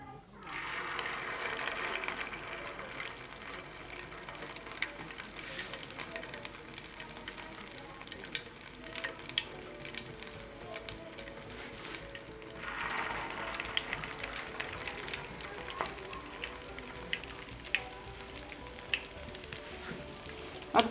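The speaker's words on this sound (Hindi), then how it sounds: "इसको धीमी आंच में डीपली फ्राई करें।" Shahi malai kebabs deep frying in oil over low heat, a steady soft sizzle that swells in a couple of brief bursts, with faint kitchen clatter and no speech.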